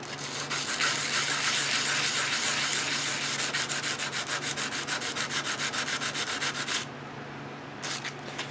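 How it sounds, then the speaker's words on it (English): Steady, close rubbing of 220-grit sandpaper scuffing the surface of a pen blank offcut. The rapid back-and-forth strokes continue for several seconds and then stop abruptly. "We want to scuff that up. I'm just using a little 220 sandpaper here."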